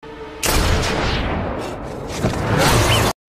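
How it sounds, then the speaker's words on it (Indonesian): A loud gunshot blast from a film scene bursts in and fills the clip with sustained, booming, rumbling roar that swells again near the end before cutting off abruptly. "Di sini Beckett menembak Tipayun untuk memancing tembakan El Diablo."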